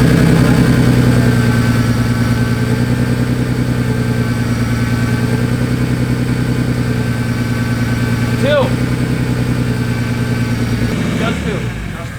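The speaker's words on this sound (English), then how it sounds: "I unplugged every other cylinder and you guys heard the RPMs drop and then come back." A turbocharged Nissan Skyline engine idles steadily and loudly up close, its rumble dipping slightly as spark plug leads are pulled from the cylinders, with a short squeak and a clunk near the end.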